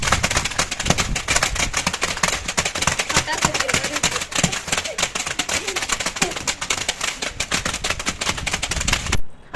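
Kurkure snacks crushed by hand for an omelette, giving a dense, continuous crackling and crunching that runs loud and steady for about nine seconds before stopping abruptly.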